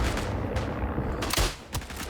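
Rifle shots in the First World War shooter Isonzo, several loud cracking reports in quick succession amid distant battlefield gunfire, with no talk.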